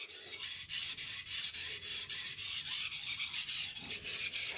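Knife blade sharpened on a Shapton Pro whetstone at too steep an angle: rhythmic, gritty rasping strokes, about four per second, steady and close up, with no speech.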